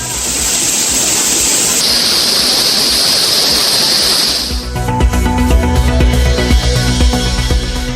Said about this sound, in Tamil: தேனி மாவட்டம் பெரியகுளம் அருகே கும்பக்கரை அருவியில் குறைந்த வெள்ளப்பெருக்கு